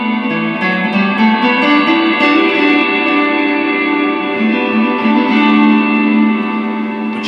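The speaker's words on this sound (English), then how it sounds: "this Holy Grail setting really gives a shimmering, beautiful, bright reverb" Sustained electric guitar chords through an Electro Harmonix Cathedral reverb pedal on its Holy Grail setting, ringing out in a bright, shimmering reverb, the tones swelling and blending into a lush wash.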